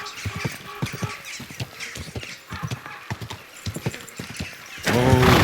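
A horse in the video game Kingdom Come Deliverance 2 clip-clops along at a steady walk, its hoofbeats close and clear, before a loud whinny bursts out at the end.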